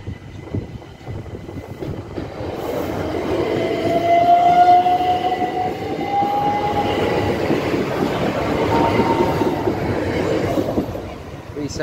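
A passenger train, unit 377446 bound for Portsmouth Harbour, rumbles past the level crossing at Angmering station. The pass is loud and sustained, with wheel clatter and a brief horn-like tone, and a voice is heard faintly in the background.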